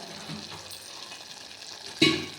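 Green chillies and ponnaganti leaves frying in oil in a pan, a faint steady sizzle with a brief sharper burst of stirring near the end.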